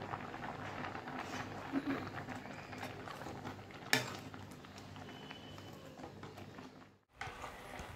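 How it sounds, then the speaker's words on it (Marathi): Milk simmering down in a pan gives a quiet, continuous bubbling boil with faint clinks and occasional stirring, one sharp tap near the middle and a brief dip before the end. "सारखं हलवत असं आपल्याला हे दूध आटवायचं आहे"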